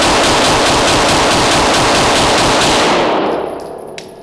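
Rapid, loud close-range gunfire with Prometheon industrial ammunition, a dense string of shots for about three seconds that then trails off into fading echoes.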